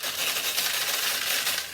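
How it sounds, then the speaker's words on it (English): A dense, continuous clatter of many small metal balls rattling and pouring from a hopper into the center of a 1972 Nishijin Model A "Pinwheel" vintage pachinko machine as the weight shifts, bright and busy for a couple of seconds without pause. "that simply means the weight is shifting and it's allowing more balls into the center"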